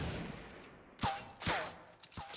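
Assault rifle fire in Fortnite Battle Royale, three sharp close shots spaced about half a second apart with ringing tails, following a stretch of quieter background game noise.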